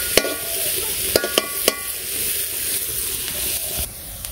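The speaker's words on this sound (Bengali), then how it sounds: "পেঁয়াজগুলো লাল লাল করে ভেজে নিলাম" Onions fry until reddish in a pan during simple village cooking, with a steady close sizzle broken by a few sharp clacks of stirring, and no voices.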